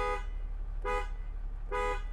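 A 2011 Land Rover Discovery 4 HSE diesel horn honks three times, short shrill blasts spaced evenly apart, close and loud over a low engine idle.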